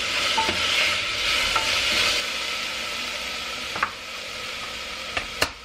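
Seasonings sauté in a hot pan with a steady sizzle, joined by occasional light clicks and taps of a utensil toward the end, and no voices.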